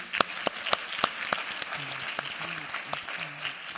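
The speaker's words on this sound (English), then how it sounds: "Can I ask a big round of applause for all the speakers, please?" An audience applauds: a few sharp, distinct claps up front, then a steadier patter of many hands clapping together at moderate volume.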